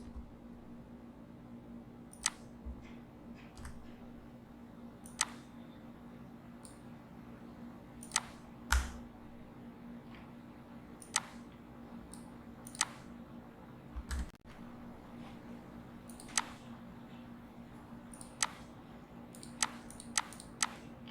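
Sparse, quiet keystrokes from code being typed on a computer keyboard, isolated clicks spaced irregularly over a steady low room hum, with no talking.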